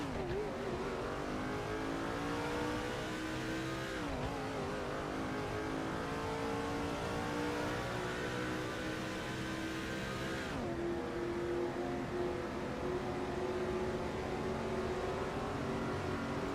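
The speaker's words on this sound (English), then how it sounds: "I think we're going to try to go around another lap so we can get full speed." Race car engine in the NASCAR Dirt to Daytona video game drones loudly and continuously, its pitch rising through the gears with two brief shift dips, steady and close throughout with no talking.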